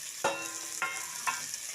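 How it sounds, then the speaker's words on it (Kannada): Okra frying in a pan for sambar, a steady sizzle broken by three soft scraping stirs spaced evenly, close and with no voices. "ಬೆಂಡೆಕಾಯಿ ಹಾಕ್ಕೊಂಡು ಹುರಿತಾ ಇರುತ್ತೆ"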